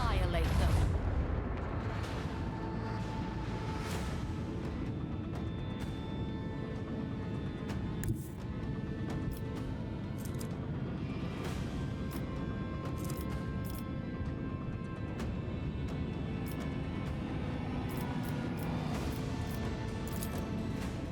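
Macro cannons of a starship firing in the Warhammer 40,000: Rogue Trader video game, a dense, continuous barrage of heavy booming blasts with rumbling low end running throughout, loud and sustained with game music or effects layered over it.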